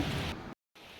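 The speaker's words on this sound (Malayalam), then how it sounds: "അപ്പോൾ അതാ നല്ല മഴ പെയ്ത് തുടങ്ങിയിട്ടുണ്ട്." Steady broadband hiss of rain falling, loud and continuous, cutting out abruptly to silence before resuming more softly.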